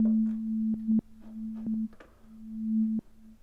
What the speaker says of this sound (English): If I just play a simple basic sine wave